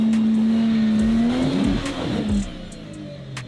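An 80 Series 4x4 engine revs hard while climbing a steep high-country hill track, a loud steady drone that rises in pitch before easing off into a lower rumble.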